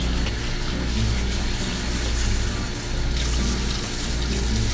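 Tap water runs steadily and close by while rice is rinsed in a bowl for onigiri, a continuous even gush with no speech over it.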